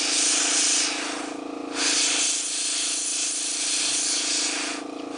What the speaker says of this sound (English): you have to have a double action airbrush to achieve it